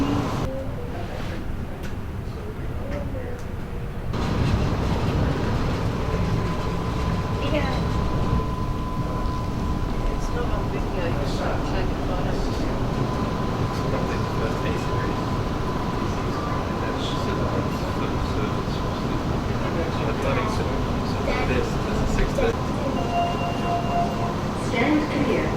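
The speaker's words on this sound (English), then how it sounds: "Please mind the gap when alighting from the train." Train pulling into a suburban rail station, a steady low rumble and rolling rail noise that swells after a few seconds and holds at close range, with a faint tonal whine throughout.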